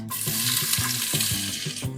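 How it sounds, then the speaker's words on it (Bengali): Chopped onions fry in soybean oil with a steady, bright sizzle, while a spoon stirs and scrapes the pan in a rhythmic pattern about twice a second. No one speaks. "এরপর দিয়ে দিচ্ছি 1 কাপ পরিমাণ কুচি করা পেঁয়াজ"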